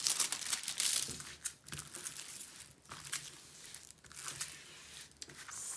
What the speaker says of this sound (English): So I would peel back that corner and start here.